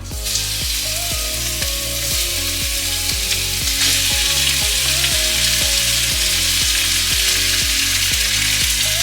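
Olive oil sizzling in a hot pan, a steady loud hiss and crackle up close that lasts the whole stretch, with a faint rhythmic electronic beat underneath and no talking.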